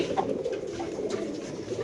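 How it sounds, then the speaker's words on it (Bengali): Soft cooing of a Pakistani Dabla pigeon repeats a few times against a steady background hum, with no talking. "এটা হলো পাকিস্তানি ডাবলা কবুতর"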